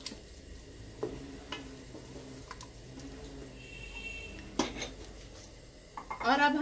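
Beef and green beans get stirred in a cooking pot, with a spoon scraping and clinking against the metal in scattered knocks over a low steady background hiss.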